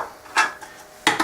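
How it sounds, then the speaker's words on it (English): Kitchen knife chopping spring onions and chili on a board for a pork or chicken marinade, two short bursts of close, crisp cutting knocks separated by a quieter pause. "chopping."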